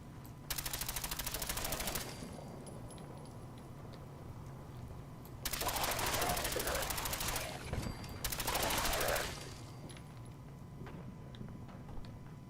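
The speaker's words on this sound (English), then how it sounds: "You hear shooting, but that's not..." Bursts of video game gunfire from Fallout 4 arrive in three sustained automatic volleys at moderate distance, separated by quieter stretches of background game ambience.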